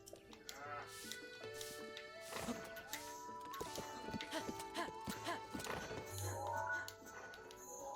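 Rhythmic hoof clip-clop of a galloping horse amid busy game music and effects in The Legend of Zelda: Breath of the Wild, with occasional whinnies, fairly loud throughout.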